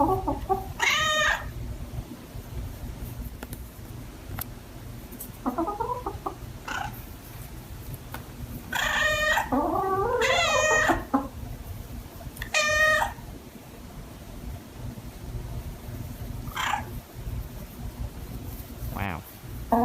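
A cat meows several times, in drawn-out, wavering cries spaced across the clip, alongside chicken squawks and clucks.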